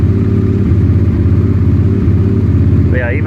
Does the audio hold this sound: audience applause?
no